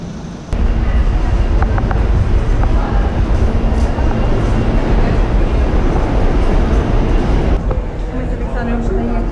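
A Manhattan subway station fills with dense, loud rumbling and rail roar from a train, steady throughout with a brief quieter start, voices faintly mixed in.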